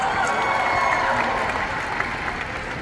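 A crowd at a TV awards show in London's OVO Arena Wembley applauds in a dense, steady roar of clapping that carries through without a break.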